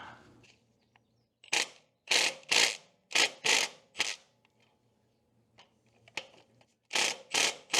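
A wrench working on 9/16 bolts of a valve chest pressure pipe on a David Brown tractor: several short, sharp metallic ratcheting clicks in bursts, separated by quiet pauses, close and clear.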